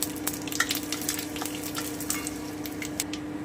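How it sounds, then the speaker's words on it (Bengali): Mustard seeds, fenugreek, cinnamon and dried chilli fry on a low flame in a pan for sweet potato chutney, giving a steady soft sizzle with small crackles and light scraping throughout, with no voices. "সর্ষে মেথি দারচিনি আর শুকনো লঙ্কাটা দিয়ে দিচ্ছি আমি হালকা করে একটু ভেজে নিচ্ছি"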